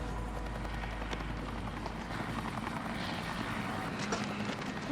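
An aircraft engine runs before a flight boards, a steady droning rumble at moderate level that holds constant throughout, with no voices over it.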